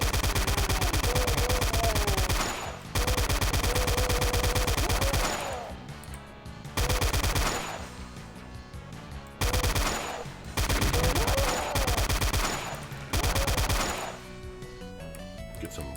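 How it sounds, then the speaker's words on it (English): Enemy gunfire in Doom rattles in loud rapid bursts separated by short gaps, repeated several times with some banging impacts between volleys. "I totally forgot he was shooting at me."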